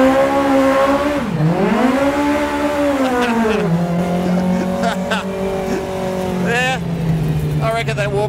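An Aussie racing car on its first laps, engine revving up and down loudly through gear changes with a rising and falling whine, heard from inside the car.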